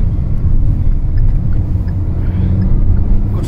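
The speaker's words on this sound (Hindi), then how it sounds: "Turbo kicks in and this car goes." Turbocharged engine of a Kia Sonet with an iMT gearbox pulling hard on the road, a loud, steady low rumble heard from inside the car with no break across the clip.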